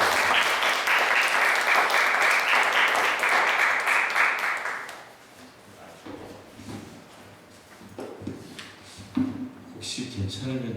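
A church congregation at an evening revival meeting claps warmly in welcome for two missionaries, a dense burst of applause lasting about five seconds before it fades into scattered claps, shuffling and murmured voices.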